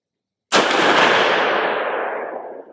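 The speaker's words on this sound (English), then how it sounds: "let's shoot the last round here" A single loud report from a Marlin Dark Series rifle firing a subsonic round outdoors, a sharp crack followed by a long, slowly fading rumbling echo.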